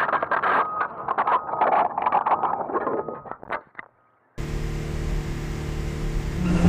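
Race cars leave the grid at the start of Race 1 of the 2015 Swedish championship (SSM). After a moment of other sound and a brief pause, a loud, steady wall of engine roar sets in and holds.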